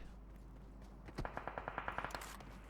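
Automatic weapon fire in PUBG Mobile, a single burst of about a dozen evenly spaced shots in quick rhythm, moderately loud against a quiet background hum.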